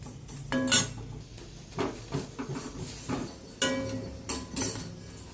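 Hard lumps of asafoetida rattle and clink against a pan as they roast, giving bursts of sharp, stone-like clattering that come and go in clusters, close and fairly quiet, with no voices.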